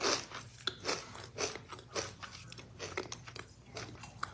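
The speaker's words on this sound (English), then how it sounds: "she's going right in for the chip" A woman bites and chews a crunchy chip, giving sharp close crunches at the start followed by softer, quieter chewing crackles, all fairly faint.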